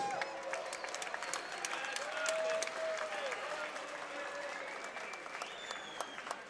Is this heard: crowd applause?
yes